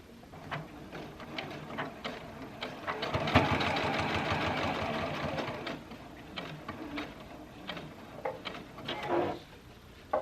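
A sewing machine stitches a fabric lining onto a machine cover, running in a steady mechanical whirr with short bursts and pauses between them. Nobody speaks.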